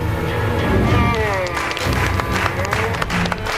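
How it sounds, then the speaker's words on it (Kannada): A crowd applauds, a dense wash of clapping lasting throughout, with a voice speaking over it. "ಹೊಡಿರಿ ಚಪ್ಪಾಳೆ."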